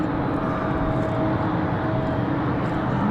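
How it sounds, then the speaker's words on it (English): Airbus A220 jet airliner passing at Raleigh Durham airport on a windy day, a steady broad engine roar holding level and fairly loud throughout, with wind noise mixed in. "Got an A220 coming up."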